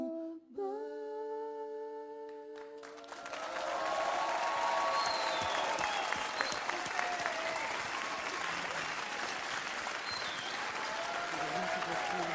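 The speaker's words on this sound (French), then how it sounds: "Vous pouvez les applaudir très fort" A song's sustained final notes at a Telethon broadcast give way to a swelling ovation, with dense audience applause and scattered cheers filling the rest, loud and continuous.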